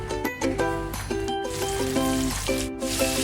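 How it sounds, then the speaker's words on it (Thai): Bite-sized pieces of tilapia fillet, tossed in dry crispy-frying flour, sizzle steadily in hot oil over medium-high heat, a continuous close crackle with occasional clinks of a utensil and no talking. "แล้วนำลงทอดได้เลยครับ"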